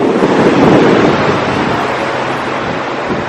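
Sea waves surge and wash steadily onto Scheveningen beach while a cold wind roars across the microphone, a loud continuous rush with no talking.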